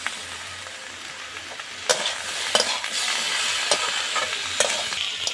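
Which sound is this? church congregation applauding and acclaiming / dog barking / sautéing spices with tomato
sautéing spices with tomato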